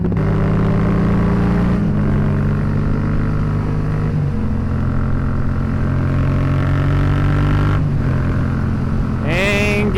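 A Yamaha FZ-07 motorcycle accelerates on a highway, its engine droning loud and steady close by with rising tones through several gear shifts and wind roar throughout.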